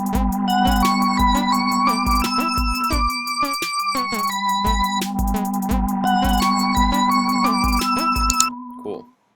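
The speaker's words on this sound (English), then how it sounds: "we're going to just add some other bass drum notes" A programmed drum beat with added 16th-note bass drum hits plays a steady, punchy electronic pattern with bright tonal accents, running alone for about eight seconds before cutting off.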